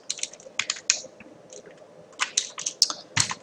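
Typing on a computer keyboard, clusters of quick, close key clicks in bursts with short pauses between them, crisp and fairly loud in a quiet room, no speech.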